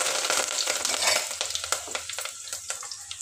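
Cumin and mustard seeds hiss and crackle in very hot oil, a dense, bright sizzle that softens slightly as scattered pops and light clinks continue.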